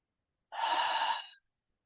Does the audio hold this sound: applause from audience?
no